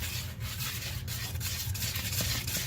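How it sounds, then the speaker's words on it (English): A whisk stirs salt into all-purpose flour in a bowl for homemade biscuit mix, giving a steady, close, continuous scraping rustle with no pauses and no talking. "Now you take a whisk and you mix it in, okay?"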